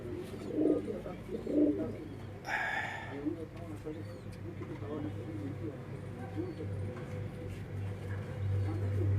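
Pigeons coo softly on a rooftop in Qazi Ahmed, Sindh, a couple of low rounded calls near the start, while someone talks over them nearly throughout.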